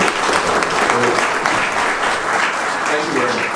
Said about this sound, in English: I would like people to please clap your hands for that